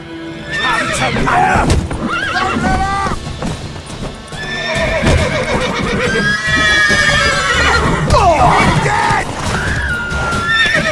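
Horses neigh and whinny repeatedly over clip-clopping hooves, loud and close, with a few voices mixed in, in the video game The Witcher 3.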